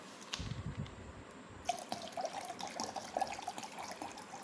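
Water is poured into a container, giving a steady trickling and splashing with some drips, fairly close and without speech.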